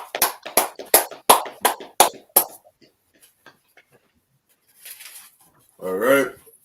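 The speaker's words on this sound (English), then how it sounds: "Let's clap it up." A closing round of claps at the end of an online Hebrew class: about eight sharp, evenly spaced claps, then quiet, with a couple of brief voices afterward.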